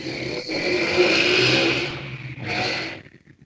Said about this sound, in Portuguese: tá no sexto andar e tá fazendo barulho de moto?